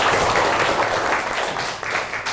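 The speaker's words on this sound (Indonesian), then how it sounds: "tepuk tangan buat Ulan" A class audience at an Indonesian Islamic teacher-training session claps for a student, with dense, fairly loud applause that eases slightly near the end before picking up again.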